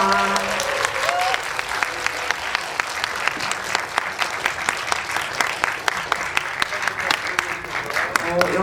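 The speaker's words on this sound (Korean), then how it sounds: "퇴장하시는 동안 박수로 보내드리도록 하겠습니다." Audience applause fills a cinema auditorium after a film screening and talk event as guests file out, steady dense clapping throughout with a few voices faintly underneath.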